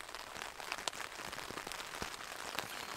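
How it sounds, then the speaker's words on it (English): Rain falls on a tent while someone camps alone in wind and rain, a soft, steady patter of drops with scattered sharper taps, quiet and close overhead, no voices. "There's something nice about listening to it rain"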